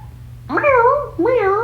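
A cat gives two loud, close meows in quick succession, the first rising and drawn out, the second shorter, over a low steady hum.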